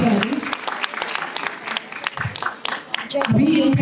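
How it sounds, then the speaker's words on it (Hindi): Loud applause from a crowd of women at a BJP Mahila Morcha event in a civic centre, dense clapping running throughout with voices and music-like tones mixed in. "जोरदार तालियां"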